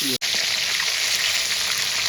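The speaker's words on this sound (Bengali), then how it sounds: "চিকেনটা আমি এরকম লাল লাল করে ভেজে নেবো" Chicken pieces fry in a hot pan for a doi chicken dish, giving a steady loud sizzle with an even crackling hiss throughout and one brief cut near the start.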